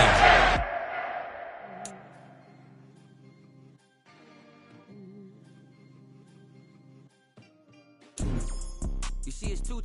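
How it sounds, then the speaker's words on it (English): A home crowd cheers and applauds at a sporting event in brief loud bursts at the beginning and end, separated by a quieter stretch with faint tonal sounds. "And the home crowd applauding. They're happy with what they've seen."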